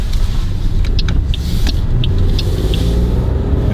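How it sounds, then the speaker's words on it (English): A 2019 Toyota Aygo Xcite with a 1 litre three-cylinder engine drives along, giving a steady, dense cabin rumble with a few faint ticks over the top. "3-cylinder engine, pretty peppy off the line."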